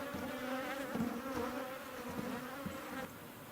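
Honey bees buzz steadily and fairly loudly around an open hive, a dense continuous drone with brief swells as individual bees pass close.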